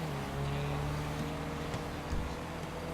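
Race cars in Grand Theft Auto, including a Sultan, lapping a circuit during an 18-lap online race, a steady engine drone with a slight rise in pitch, heard alone without talk.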